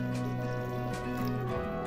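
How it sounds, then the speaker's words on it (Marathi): Water pours steadily into a pot of wheat kheer, a continuous liquid splash over a low background hum. "मी थोडस एक दोन वाटे एवढं पाणी घालणार आहे"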